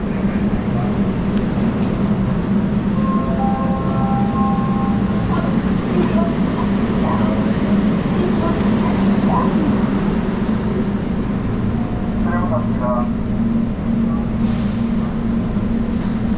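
Steady low rumble inside a moving, air-conditioned Seoul subway train, with faint rattles and brief high tones from the carriage, continuous throughout.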